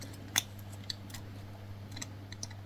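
A craft blade, dull and needing replacement, cuts paper for a scrapbooking project: a few faint snips and clicks over a quiet steady hum, no voices.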